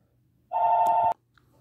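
A single short electronic telephone ring, a steady bright tone lasting about half a second against near silence.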